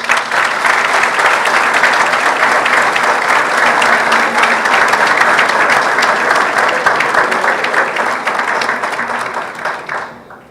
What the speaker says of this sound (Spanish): Recibamos con un afectuoso aplauso al autor de nuestra obra